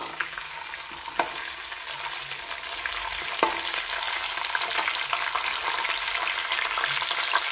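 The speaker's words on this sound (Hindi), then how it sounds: "घी गर्म हो गया, सारे मसाले पा लैने तो थोड़ा जहा भून लैने।" Whole spices frying in hot ghee in a pan, a steady soft sizzle with occasional light stirring scrapes, close and fairly quiet.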